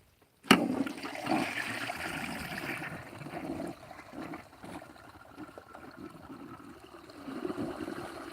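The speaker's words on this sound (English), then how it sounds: "here goes the flush" A toilet flushes with a sudden loud whoosh, then a steady rushing, gurgling stream of water that carries on close by for several seconds with no one speaking.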